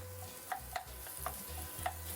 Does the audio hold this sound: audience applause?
no